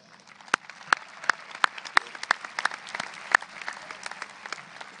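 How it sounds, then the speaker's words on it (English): The audience at a 2020 high school graduation ceremony gives a soft, distant round of applause, with scattered individual claps standing out over the crowd. "Please join me in a round of applause for Mr. Dave Houston and Mr. Barton Fox."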